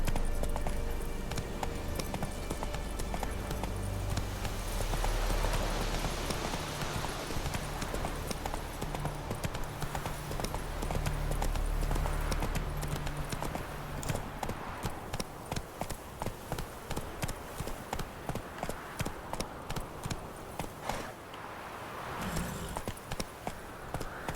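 Roach, Geralt's horse in The Witcher 3, gallops with a fast, steady clatter of hooves that grows more distinct and evenly paced toward the end, heard alone without talk.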